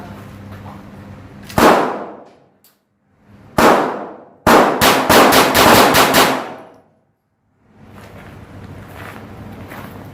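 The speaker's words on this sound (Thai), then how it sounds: "จะยิงเร่งเลยนะครับ ยิงเร็วเลย ดูว่ามันทำงานปกติ" A Glock 44 pistol fires .22 LR rounds at a shooting range about seven metres from the target, loud and close: two single cracks, then a rapid string of roughly eight shots, each with a ringing metallic tail.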